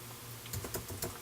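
Fingers tap out a name on a computer keyboard for a new virtual machine, a quick uneven burst of close, crisp key clicks after a short quiet lead-in.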